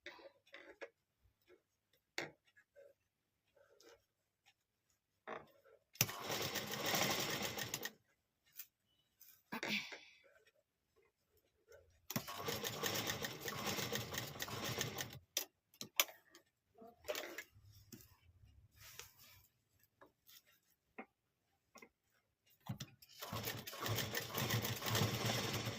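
A sewing machine stitches lace onto a readymade blouse in three long bursts of loud, steady close whirring, separated by quiet stretches with light handling sounds and brief speech.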